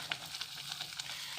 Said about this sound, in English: when I add the milk like that, I'm going to stir